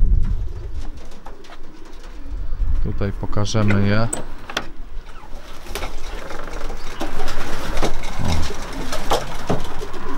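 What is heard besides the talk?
pigeons cooing in a loft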